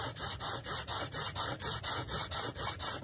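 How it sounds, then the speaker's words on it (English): Sanding a bevel onto balsa wood for a model V-tail with a guided sanding tool gives a close, even back-and-forth rasp, about a dozen rhythmic strokes in quick succession with no talking. "It's a really great tool for anything where you've got to sand a bevel onto balsa wood"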